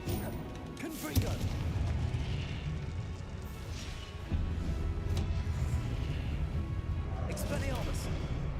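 Confringo fire-blast spells explode during a Hogwarts Legacy wizard duel, with several loud crashing blasts and sharp impacts bursting over a thick, constant bed of battle noise for the whole stretch.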